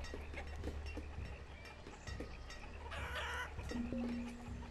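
Chickens clucking faintly in a village scene in the Banished city-building game, soft irregular clucks over a low steady ambient bed, with a brief higher tone near the end.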